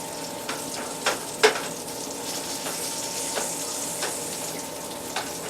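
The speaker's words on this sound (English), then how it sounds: "I have 3 sausage patties here with just a little bit of grease. And I'm going to go ahead and chop those up." Three sausage patties sizzle in a little grease in a pan, a steady close frying crackle broken by a few scraping knocks as they are chopped up with a utensil.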